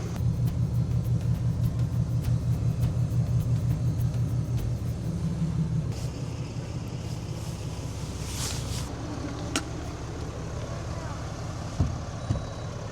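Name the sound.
pickup truck pulling out with RV hitched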